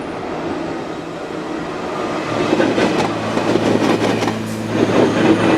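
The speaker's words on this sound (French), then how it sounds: "ce TGV, le TGV à grande vitesse." A TGV high-speed train rushes past with a steady rumble, growing louder midway, with rhythmic clatter of wheels on rails and a faint squeal.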